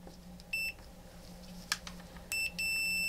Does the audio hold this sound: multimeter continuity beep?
yes